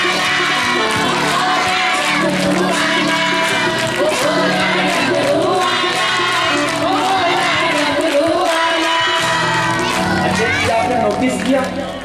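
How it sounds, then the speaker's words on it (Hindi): A large crowd at a Shiv Mahapuran religious gathering in the Mahavir temple at Umreth claps and sings together, a loud, dense, continuous wall of voices and hand claps that runs the whole length without a break. "सबने हाथ ऊपर उठाया, सबने ताली बजाई, सबने पूरा बल लगा के गाया"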